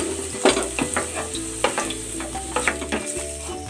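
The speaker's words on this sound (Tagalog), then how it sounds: "Nagigisa na ako ng bawang. At ng sibuyas." Garlic and onion sauté in a pan for a creamy chicken dish, with a steady close sizzle and frying crackle under repeated stirring scrapes and clinks throughout.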